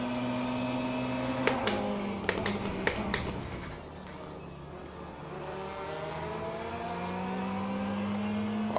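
An LMP2 prototype race car engine drones in Le Mans Ultimate, a steady high engine note that shifts pitch through gear changes, with a few sharp clicks midway and no one speaking.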